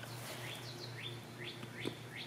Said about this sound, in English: So birds are singing.